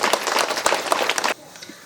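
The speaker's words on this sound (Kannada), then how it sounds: "ಅವ್ರಿಗೂ ಚಪ್ಪಾಳೆ ಮುಖಾಂತರ ಸ್ವಾಗತ ಕೋರೋಣ" Audience applause at a pyramid anniversary function in a village, dense clapping from a gathered crowd that runs for over a second and then cuts off abruptly, leaving a quieter room murmur.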